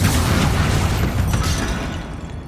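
Confringo fire-spell explosions in the video game Hogwarts Legacy, a dense rumbling boom with crackling bursts sustained through the moment, loud and close with no talk.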